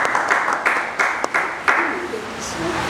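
At an award ceremony held by a foundation for the defense of social rights, distinct loud claps land in a quick, fairly regular rhythm over a softer bed of crowd applause, with a faint voice or tone near the end.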